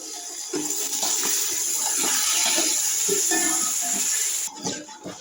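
Water is poured into a cooking pot while making zarda sweet rice, a steady splashing gush that runs for several seconds before tapering off at the end.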